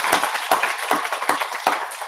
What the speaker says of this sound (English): I think everybody deserves a clap